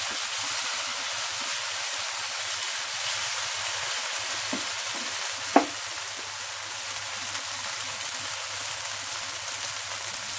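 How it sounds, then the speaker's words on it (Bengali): Prawns sautéing in a pan make a soft, constant sizzle at low level, with a couple of brief clinks of a utensil midway and no voices. "একটু ভালোভাবে কষিয়ে নেবো এটাকে"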